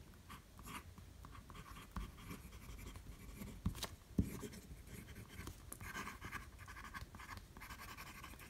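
Diplomat Aero fountain pen with a standard Jowo medium nib writing on paper, a faint, close, steady scratching with small irregular strokes and a couple of sharper taps.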